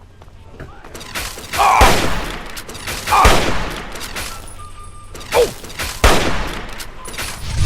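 Gunfire in Fallout 3: repeated loud shots and bursts with sharp thumping impacts spread across the moment, broken by short quieter gaps, with some in-game voice underneath.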